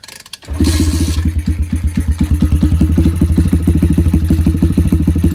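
Apollo DBX18 dirt bike engine starting up and then idling roughly on full choke, a loud, close, uneven pulsing thump with irregular beats throughout, heard with no talking.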